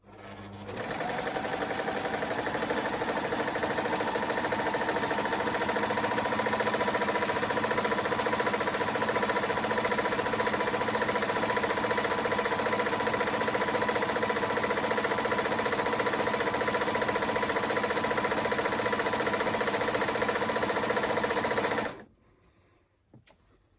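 An overlocker runs steadily as it finishes the bottom hem of a top, a close, continuous mechanical whir with a fast stitching rhythm. It holds for about twenty seconds and then stops abruptly, leaving near silence.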